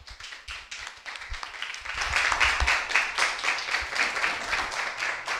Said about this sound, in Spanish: Un merecido aplauso, ¿verdad?